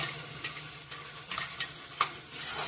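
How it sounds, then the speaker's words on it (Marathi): Ground masala paste with tomato puree fries in oil for misal, a soft continuous sizzle with occasional scraping stirs and light knocks, quiet and near. "वाटणाला तेल सुटेपर्यंत भाजून घ्यावे आणि नंतर 2 टोमॅटोची प्युरी टाकलेली आहे।"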